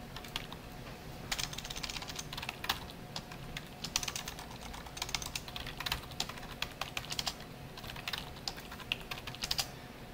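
Typing a password on a computer keyboard during a CentOS 7 server setup, heard as steady rapid key clicks in irregular bursts at close range, with no talking.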